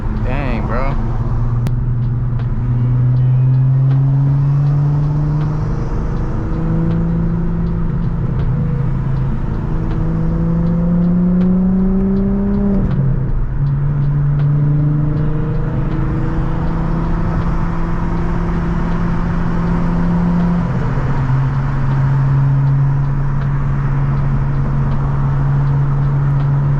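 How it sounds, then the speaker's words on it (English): Steady engine drone from inside a modified European car in city traffic, with gear-change pitch steps and a constant rumble near and loud throughout. "This is why I don't like driving here. All this traffic."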